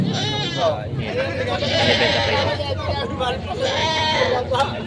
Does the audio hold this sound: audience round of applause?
no